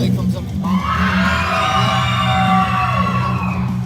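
Crowd at a wrestling event yelling, whooping and cheering loudly when called on to show which side is loudest, a sustained roar of many voices close around.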